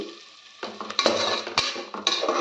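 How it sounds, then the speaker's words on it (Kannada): Ground masala paste being stirred into frying ingredients in a pan on a medium-to-high flame for methi pulao: a quiet start, then repeated scraping strokes and clatters over a steady sizzle. "ಮಸಾಲಾನ ಸೇರಿಸ್ಕೊಂಡು ಒಂದು ಸ್ಟಿರ್ ಮಾಡಿ"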